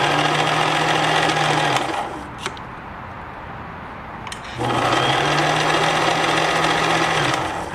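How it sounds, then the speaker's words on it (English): A Kenmore 1249 sewing machine runs its bobbin winder in two steady whirring bursts, each lasting about two seconds, separated by a short quiet pause with faint clicks. "I'm going to turn this on and just run our bobbin winder a whole bunch here."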